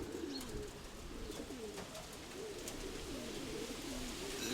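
Pigeons coo repeatedly in soft, rolling calls over a steady background hiss, with no talking.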